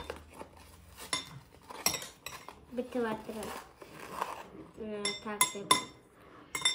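A spoon scoops and clinks through a fizzy bath bomb mixture in a bowl in short, light taps, mixed with a child's and an adult's voices talking close by.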